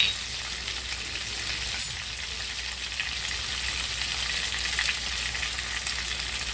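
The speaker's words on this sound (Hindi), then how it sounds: "अभी लहसुन डाल दिए, अभी जीरा डालेंगे और करी पत्ता डालेंगे।" Steady, close sizzling of garlic and cumin frying in hot oil, a constant crackling hiss with a brief sharp spatter partway through.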